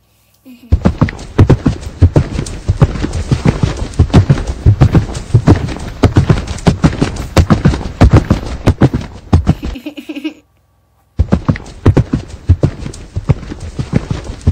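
Horses' hooves clip-clop steadily and close by as they are led back in to their stable, a dense run of hollow thuds that stops briefly before resuming.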